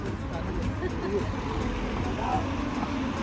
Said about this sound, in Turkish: Bekle arabalar geçsin bekle.